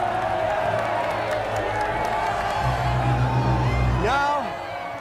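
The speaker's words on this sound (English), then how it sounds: "please, a round of applause for the team that made this possible" A live audience bursts into loud, sustained applause with cheering and whoops, a dense crowd roar that holds steady before tapering off near the end.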